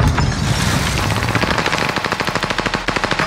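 Rapid automatic gunfire in Call of Duty: Modern Warfare, loud and close, building into a fast continuous burst of evenly spaced shots that runs for several seconds.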